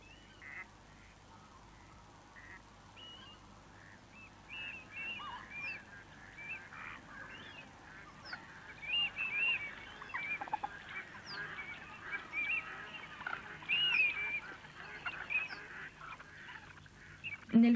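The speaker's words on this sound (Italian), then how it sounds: "le anatre si dedicano ai preliminari del corteggiamento." Ducks call from a winter reed bed in East Sussex during courtship, a steady chorus of faint honking and quacking notes at some distance that grows busier and a little louder toward the end.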